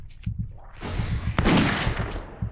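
Gunfire in the video game Witch Hunt: a loud, sharp shot bursts out mid-clip and is followed by a rumbling tail, over a backdrop of rhythmic low thumps and game ambience.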